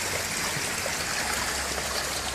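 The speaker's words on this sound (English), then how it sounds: "So now it's flowing down this way and going out through the chicken pen." Floodwater from heavy rain flows through a backyard and out past a chicken pen, a loud, steady rushing wash that fills the whole clip with no voices.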